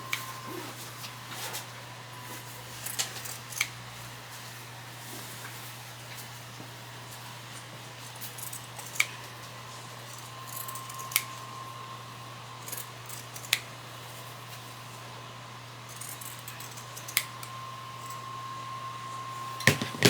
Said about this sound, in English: I'm going to use the pinking shears.